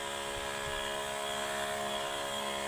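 A motorized sprayer spraying vegetables in a field gives off a loud, steady engine drone that never lets up, close by and with no speech over it.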